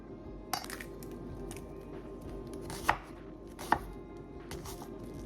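Onion being chopped with a knife on a board at home while Povi Masima cooks, a few sharp isolated chops spaced out over a low steady background hum.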